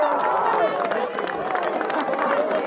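Rugby crowd at Alcast Park cheering a try in an Enniscorthy v Skerries All-Ireland League playoff, a sustained roar with scattered claps and shouts under an excited commentator's voice.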